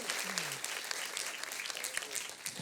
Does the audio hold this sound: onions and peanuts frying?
no